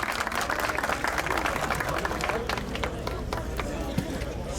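Audience applause at a fishing season opening ceremony in Şile, Turkey, as a cooperative official is invited to the podium; steady, dense clapping from a crowd, moderately distant, running throughout with a slight rise near the end.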